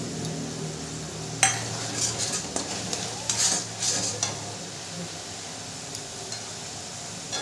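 Kashmiri chilli powder and spices stirred in a sizzling pan for chana masala, a soft frying hiss under scraping and the odd clink of a utensil against the pan.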